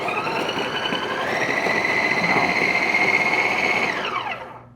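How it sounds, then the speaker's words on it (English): A food processor whirs as it pulses butter with dry baking ingredients, a loud steady motor whine lasting about four seconds before spinning down at the end, with no talking over it. "We're just gonna pulse this to crumble and cut up the butter"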